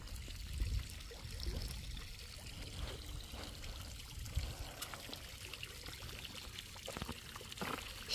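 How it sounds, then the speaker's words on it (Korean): A garden fountain outdoors on a cold November day: a faint, continuous trickle and splash of falling water with soft low rumbling, quiet and steady throughout. "분수가"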